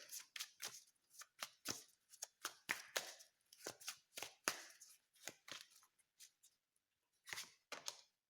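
Cards being shuffled and snapped down in quick bursts, crisp riffling clicks close by, with short pauses between flurries.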